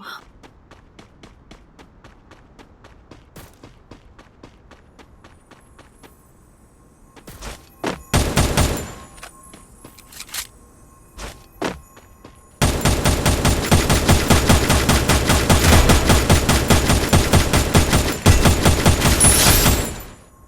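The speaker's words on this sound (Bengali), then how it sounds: "এইভাবে গুলি করলে এম এনিমির ওপর লক থাকে" Gunfire in the Free Fire video game: sparse single shots and bursts at first, then a long, loud sustained automatic volley near the end, with no talking.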